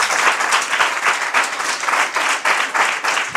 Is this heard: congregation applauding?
yes